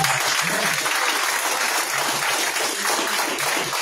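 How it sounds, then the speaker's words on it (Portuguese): A church congregation at a service in Piraquara claps together in a full, steady round of applause that fills the room for several seconds, with no voices standing out. "As palmas ao meu Senhor Jesus."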